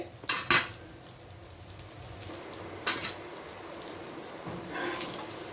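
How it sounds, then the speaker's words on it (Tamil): Fish omelet cooking in oil in a pan over a medium flame, a steady soft sizzle with a few sharper crackles and spatula scrapes near the start, close and moderately quiet with no talking. "மீன் ஆம்லெட்டு வெந்துக்கிட்டு இருக்குது"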